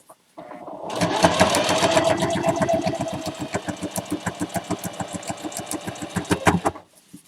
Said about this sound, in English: sewing all the lines together